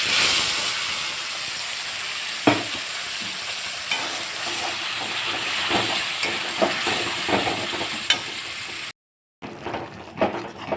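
Spice paste sizzles and hisses steadily in hot oil with bay leaves in a pan while prawns are cooked, with occasional stirring scrapes, a brief cut in the sound, then more frying.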